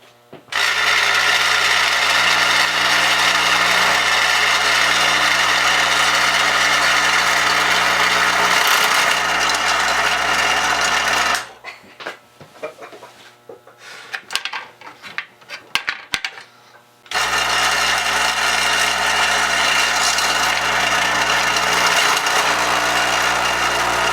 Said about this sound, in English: it uses a little vibratory motor, and the barrels come up and hit the gate here and drop into the gondola here